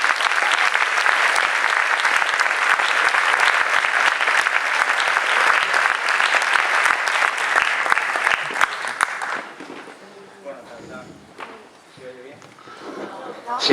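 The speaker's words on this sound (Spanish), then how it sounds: "Un aplaudiment." An audience at the Cúpula de Comediants in Canet de Mar bursts into loud, sustained applause for about nine seconds, dense clapping that then thins into scattered claps and murmuring.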